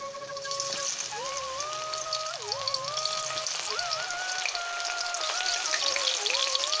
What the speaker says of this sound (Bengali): এবার কপিগুলো ভাজার জন্য দিয়ে দেব